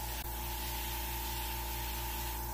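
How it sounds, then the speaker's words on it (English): An airbrush spraying water-based black paint on an RC model, producing a steady close hiss with a faint constant hum beneath, unbroken from start to finish. "when you're spraying black, you tend to get more of a dot pattern"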